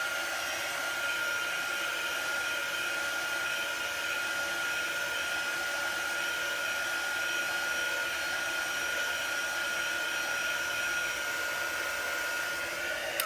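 A hair dryer blows continuously at close range to dry a chalk paste craft piece for a winter woodland scene, a steady loud whooshing hum with no pauses and no talking.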